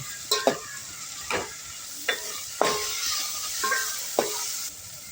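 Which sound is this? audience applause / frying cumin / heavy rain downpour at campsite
frying cumin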